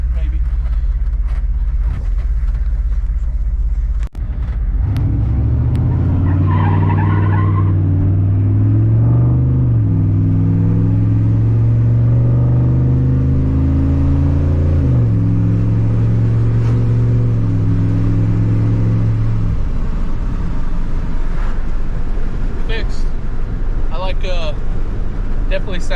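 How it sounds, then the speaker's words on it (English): An OBS Ford truck with a swapped engine revs hard during a burnout, its loud low drone climbing and shifting pitch for several seconds, a rough continuous roar close by with no distinct tire squeal standing out. "It boils the tires off instantly"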